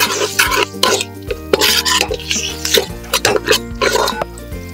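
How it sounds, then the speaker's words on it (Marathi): Turmeric, red chilli powder and spices are stirred in hot oil for a mutton pulao, giving a loud, steady sizzle broken by repeated scraping strokes of a spoon against the pan, with strong musical tones running underneath. "हळद, आणि परत हे सगळं तेलामध्ये चांगलं परतून घेऊया."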